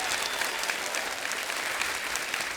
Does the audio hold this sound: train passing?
no